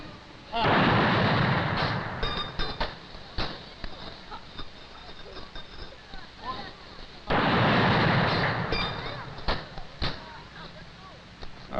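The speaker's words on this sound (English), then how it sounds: "The President has entered the cemetery and is receiving a 21-gun salute at the present time." Cannon rounds of a 21-gun salute during a Veterans Day ceremony at Arlington cemetery, heavy booming reports several seconds apart with long rolling echoes, heard from a distance alongside faint crowd noise.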